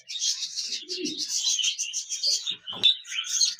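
A pair of big, colourful budgerigars chirps and chatters almost without pause, with bright, high twittering calls layered close together and one sharper note near the end.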